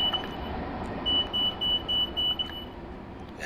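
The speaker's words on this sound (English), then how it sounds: "Beep, beep, beep." In-cab beeping in Train Sim World 2 on an M7A/M3A train: a run of short, evenly spaced electronic beeps, about seven pulses, over a steady low rumble of the train, fairly clear and moderately loud.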